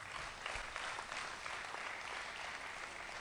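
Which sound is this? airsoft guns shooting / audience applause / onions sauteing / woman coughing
audience applause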